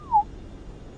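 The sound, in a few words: person whistling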